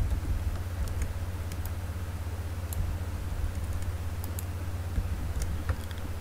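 A computer mouse clicks sharply and sparsely over a steady low background hum. The clicks come in scattered single taps and quick pairs as curves are drawn in Photoshop.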